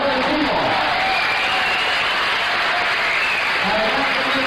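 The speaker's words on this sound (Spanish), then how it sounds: "pedir un fuerte aplauso para un hombre que acaba de ser padre" An audience at a choral anniversary concert in Salou breaks into dense, sustained applause filling the room, with a voice faintly audible beneath the clapping.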